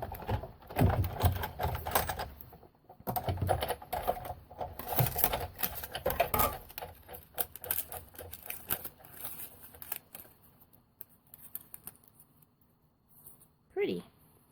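The handle of a Big Shot die-cutting machine is cranked to roll cardstock and a die through, a rapid clattering mechanical rattle in bursts, close by, mixed with speech and handling noise before fading to quiet near the end.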